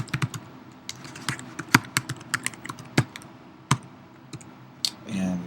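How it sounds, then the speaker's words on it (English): Someone types on a computer keyboard, a quiet, uneven patter of close individual keystrokes with short gaps, ending in a brief louder rustle. "You'll type in the email address again."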